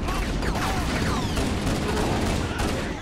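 Weapon fire in Halo CE, a steady stream of rapid shots forming a continuous, fairly quiet burst of gunfire with whizzing effects, with no talk over it.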